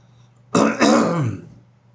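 One short, gravelly throat clearing, close and fairly loud, in two quick pushes before trailing off.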